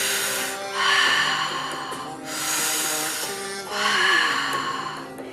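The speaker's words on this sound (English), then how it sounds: "So you're going to breathe in and out your mouth now." Three slow, deliberate breaths are drawn in and pushed out through the mouth during a guided energy-alignment breathing session, each a soft, airy rush, close and clear, with short pauses between.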